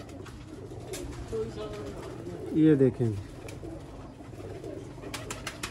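Salara Teddy pigeons coo in a short rounded burst near the middle, close and moderately loud, over a soft background murmur with someone speaking briefly.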